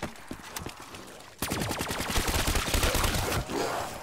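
Rapid automatic gunfire in Call of Duty Black Ops 3 Zombies on the Ascension map, a few scattered shots then a sustained loud burst of fast, evenly spaced rounds for over two seconds, with no talk.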